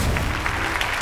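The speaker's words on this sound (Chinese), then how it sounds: "来，让我们掌声欢迎。" Studio audience applause on a job-hunting variety show, a short burst of dense clapping that stays steady and loud through its brief length.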